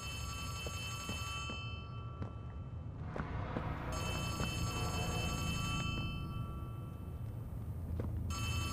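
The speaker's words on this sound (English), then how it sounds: "There's a telephone ringing, guys. Let's go answer the telephone." A telephone rings inside the Poppy Playtime horror video game, a shrill bell-like trill that repeats in several bursts over a steady low background hum, with no one speaking.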